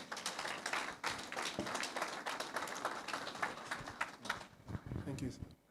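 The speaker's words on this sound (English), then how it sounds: "can we give Professor Waleke another round of applause?" Audience applause at a trade and tax forum, steady clapping from a crowd lasting several seconds and fading at the end.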